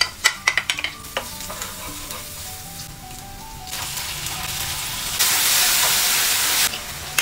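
Onion and garlic sauté in hot oil, starting with several sharp clatters and taps before a steady hiss and sizzle builds and grows louder, then cuts off near the end.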